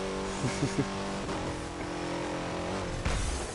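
Car engine in the racing game Burnout Paradise, a steady loud drone with rising revs and a few short bursts, continuous throughout with no talking.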